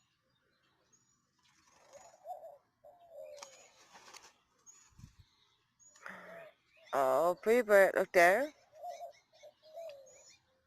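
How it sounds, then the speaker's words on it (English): Small birds chirp and coo outdoors in a quiet setting, soft calls scattered through the clip, briefly covered by a nearby person talking to a pet bird. "So you hear all the different birdies singing or making their little sounds."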